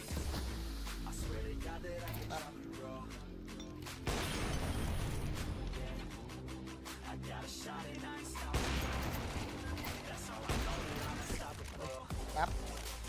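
Gunfire in the video game CS:GO 2, with rapid bursts of shots and sharp impacts that come in clusters over a busy game soundscape, loud and close, with background game noise throughout.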